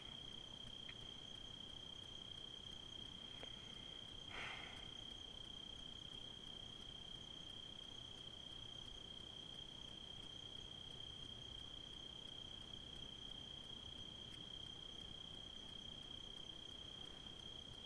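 Crickets or grasshoppers chirp at night outside a tent, a steady, faint, continuous high trill with a single brief click partway through.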